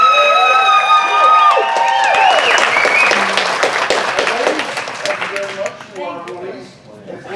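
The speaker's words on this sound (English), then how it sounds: "And a big round of applause for Mark Stallings." An audience at a live fantasy dating game show breaks into loud, sustained applause with scattered cheers and voices, the clapping staying dense before thinning slightly toward the end.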